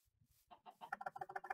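Chickens cluck in Minecraft in a rapid run of short, nasal clucks that start faint and grow louder and denser over about a second and a half, with no talk over them.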